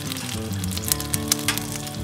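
Shishito peppers sizzle on a very hot griddle, a steady broadband crackle close by with a few sharper pops standing out, no voices over it.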